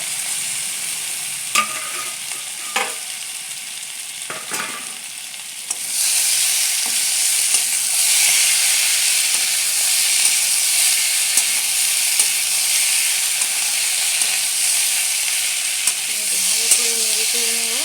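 Tomato and chopped green chilli hit a hot pan with a loud, steady sizzle that lasts to the end, after a few sharp clinks of a spatula, while the curry is cooked.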